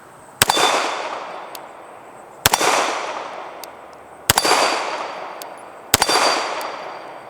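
A CZ SP-01 Tactical pistol fires four evenly spaced shots at steel targets such as a hostage popper and plate rack. Each sharp crack is followed by a bright ringing clang that trails off.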